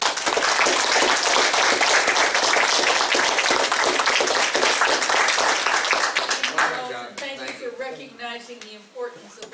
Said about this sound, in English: I think we all owe him a round of applause